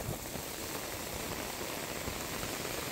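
Heavy rain pours down steadily in Jaffna during flooding, a dense, continuous hiss of water hitting surfaces with no break, faint and distant in level and with no talking.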